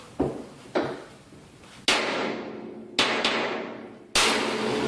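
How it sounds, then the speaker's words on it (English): Five sharp, loud hammer blows strike the tempered glass of a Tesla at uneven intervals, each a hard crack with a bright ringing decay as the glass takes the hit. "guy's going to use a fucking hammer."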